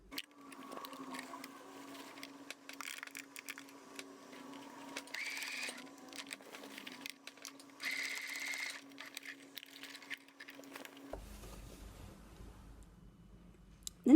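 A sewing machine stitching lunch bag fabric, running in a steady fast whir with short stops and restarts as it goes back over the seam, fairly close with no talking.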